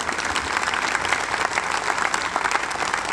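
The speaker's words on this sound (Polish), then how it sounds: "I to są brawa." Theatre audience applauding at an operetta premiere during the Malta Festival in Poznań, dense continuous clapping from a large crowd, loud and sustained throughout.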